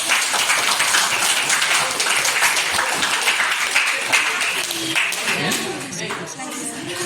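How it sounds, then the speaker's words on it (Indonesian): Lively applause from a class of students in a school, dense clapping filling about seven seconds and gradually thinning toward the end, with a voice speaking briefly in the later part. "tepuk tangan di dek"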